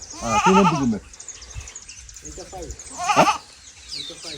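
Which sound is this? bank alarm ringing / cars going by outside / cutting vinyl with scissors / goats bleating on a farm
goats bleating on a farm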